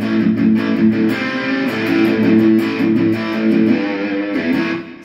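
A Boss Katana 50 MK1 guitar amp on its distortion channel plays thick, sustained distorted chords that ring steadily for about five seconds before cutting off at the end.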